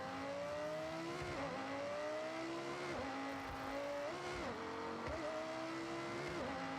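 Race car engine in the game Forza Horizon 6, a loud continuous high-revving roar climbing through gears with regular dips at each shift, steady and close with no talk.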